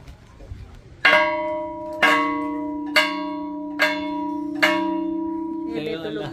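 A bell at a hilltop viewpoint in Bohol near the Chocolate Hills struck five times at roughly one-second intervals, each loud, ringing strike decaying with a sustained metallic hum before a brief rustle at the end.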